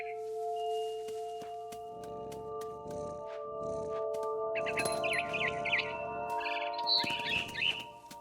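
Birds chirp in the video game What Remains of Edith Finch, high trills and tweets that come and go over soft tonal game music and a faint rustle, with no talking.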